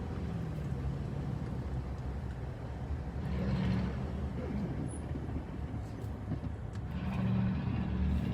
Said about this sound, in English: I hear that truck again, the one that was doing the burnouts.